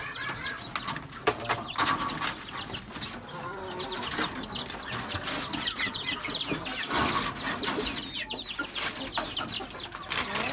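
Young chicks about a month old cluck and peep continuously around feeding, a busy flock of many birds close by with overlapping calls and no talk.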